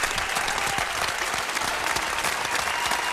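An audience applauds steadily throughout, a dense, even wash of clapping hands with no pauses, loud and continuous from start to finish.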